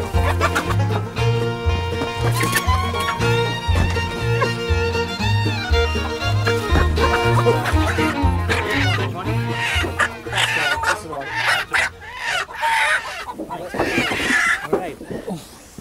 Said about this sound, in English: Apparently, Rhode Island Reds are the most reliable layers,